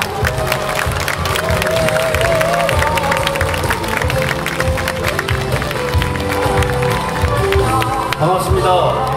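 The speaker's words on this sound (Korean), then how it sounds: "여러분의 뜨거운 박수로 시작하도록 하겠습니다" Audience at an outdoor cultural plaza event in Gwanghwamun, Seoul, welcomes a male alumni choir with steady crowd applause and cheering, with music and background voices mixed in throughout.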